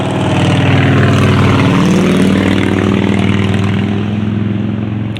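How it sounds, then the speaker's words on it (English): A loud engine roars close by, rumbling steadily as a motorcycle passes and slowly fades a little toward the end. "there's a big loud motorcycle coming"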